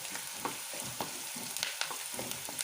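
Onions being sautéed in a pan, a soft continuous sizzle broken by rhythmic scraping stirs of a spatula, close and fairly quiet, with no talking.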